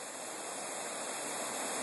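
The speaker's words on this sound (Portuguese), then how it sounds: "Essa cachoeira maravilhosa é aquela que nós vimos na edição anterior." Cachoeira do Abismo, a waterfall of roughly 60 metres, pours with a constant broadband rush, steady and unbroken, with no voices over it.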